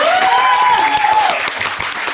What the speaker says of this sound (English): Please give applause to Cinta.